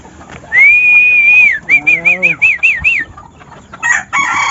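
A rooster crows loudly and close by, one long call followed by a broken, pulsing crow, while other chickens in a backyard flock cluck and a second crow starts at the end.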